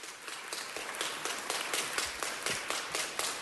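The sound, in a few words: audience applause for Sierra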